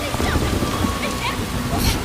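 Rain pours down as a loud, continuous broadband hiss with a close patter of drops, and faint voices sit partly under it.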